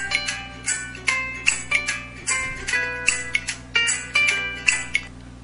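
The "Ukulele" ringtone from an LG Octane VN530 phone: a short plucked melody of about a dozen bright, evenly paced notes, close and clear with no speech.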